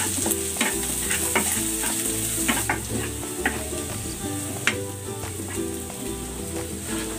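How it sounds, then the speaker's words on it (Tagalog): Garlic and onion sautéing in a hot pan, a steady close sizzle with scattered sharp clicks of a spatula scraping and stirring, and a low background hum underneath. "Magigisa na ako ng bawang. Lagay na rin natin itong sibuyas."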